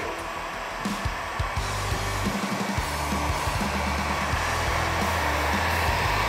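A heat gun blows with a steady, loud whooshing hum while warming vinyl wrap stripes on a Camaro hood, the airflow continuous and close throughout with a few faint clicks and handling noises underneath.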